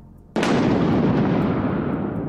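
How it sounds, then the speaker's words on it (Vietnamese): A thunder crash sound effect in a fantasy audiobook bursts in suddenly after a quiet moment, loud and booming, and then rumbles on steadily without fading, with no voice over it. "Bấy giờ trên trời bỗng có sấm sét âm âm nổ mạnh"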